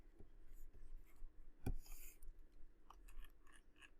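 Faint scratchy pen or marker strokes while a node voltage equation for a circuit problem is written out, with short strokes and one sharper tap over a quiet background.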